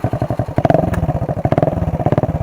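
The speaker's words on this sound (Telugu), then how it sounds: "బండి సౌండ్ వినిపిస్తాను చూడండి." A Honda Dio scooter fitted with an aftermarket exhaust idles and blips close by, its engine thumping in a quick, steady pulsing rhythm with brief revs in the middle.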